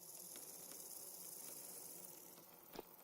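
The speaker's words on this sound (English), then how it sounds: "Also, these crickets are loud as shit." Dense, constant high-pitched cricket chirping fills a nighttime scene in the survival game Vintage Story, steady and fairly loud, with a faint click near the end.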